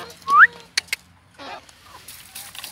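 A hen gives a short squawk followed by a few soft clucks, fairly close, over a quiet background.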